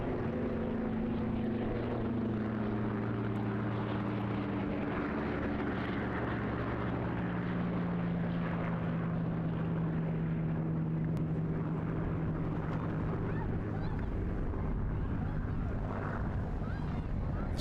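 A Spitfire fighter makes its final pass at the Eastbourne International Airshow, a steady droning piston-engine roar that holds loud and continuous throughout, its pitch shifting slightly as it passes, with a voice talking faintly over it.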